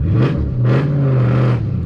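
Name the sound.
Dodge Challenger manual car accelerating up a hill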